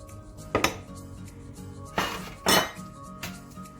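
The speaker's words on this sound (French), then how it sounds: "Je viens mettre le lait dans le bol." Cold milk and whipped cream powder go into a bowl, giving a few sharp clinks and knocks against the bowl, spaced out and close by, with no talking.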